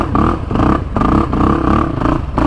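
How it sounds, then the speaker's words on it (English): A Can-Am quad's engine is held at full throttle, a loud raspy roar with pulsing surges and brief dips in a rough, repeating rhythm, close to the listener. "Now, we are full throttling it because we do want to make sure that this thing does run properly"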